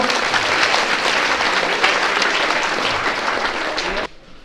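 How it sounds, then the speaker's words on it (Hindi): Audience applause at a free cataract surgery camp event in Vrindavan, Mathura: loud, dense clapping from a crowd that holds steady for about four seconds, then stops abruptly. "तो जोरदार ताली बजा दो।"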